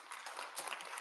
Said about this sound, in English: clap for yourselves, praise the Lord